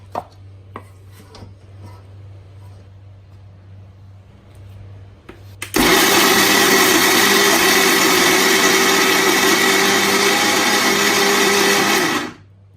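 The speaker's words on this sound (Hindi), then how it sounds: "अब इसको मैं ग्राइंडर जग में डाल के इसको ग्राइंड कर लेंगे।" Motichoor ladoo mixture being coarsely ground in a grinder jar: a few scattered clicks and taps, then a loud, steady high-pitched motor whir runs for about six seconds before stopping abruptly.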